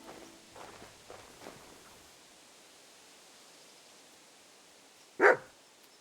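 A single dog bark rings out in the medieval video game Kingdom Come: Deliverance 2, one short sharp burst near the end after soft footsteps and a faint ambient hush.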